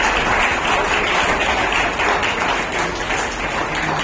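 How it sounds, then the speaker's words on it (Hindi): An audience at an award ceremony for an orator-of-the-month trophy claps steadily and loudly, a dense, even roar of many hands that keeps going without a break. "तालियां रुकनी नहीं चाहिए।"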